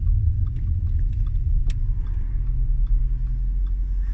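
A 331 kW Audi RS4 pulls away, its engine a steady, close, deep rumble that holds even and continuous throughout, with no voices over it.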